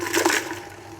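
The remaining water is poured into bread dough in a mixer, a brief splashing gush that starts strong and fades within about a second, close and alone.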